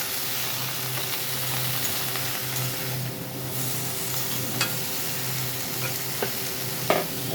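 Ridge gourd and potato pieces with onion and turmeric fry in a pan with a steady sizzle, while a spoon stirs them in a few scraping clacks near the end.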